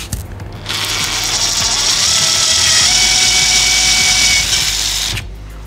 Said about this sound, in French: On perce le dernier.